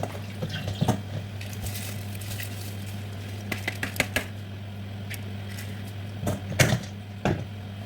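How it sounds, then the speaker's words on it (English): Rice being washed by hand in warm salted water: scattered soft clicks and splashy grain sounds come in short bursts over a steady low hum, with no talking. "So I wash this rice with salt and warm water."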